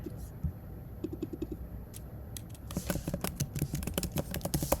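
Keys clatter on a computer keyboard in light, uneven taps, starting sparse and building to a busier run of typing near the end.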